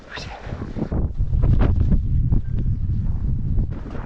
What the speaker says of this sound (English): come over here and talk because it's super windy